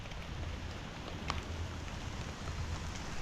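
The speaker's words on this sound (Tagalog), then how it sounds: "Yan na, lumalakas na yung ulan." Rain falls at a rural mini farm as a steady, even hiss of drops across a broad wash of sound, soft and constant with faint low rumble beneath and no voices.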